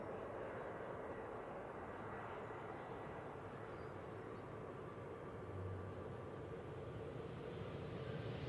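easyJet airliner at Manchester Airport, a steady broad jet engine roar held at constant loudness throughout, moderately distant, with no talking.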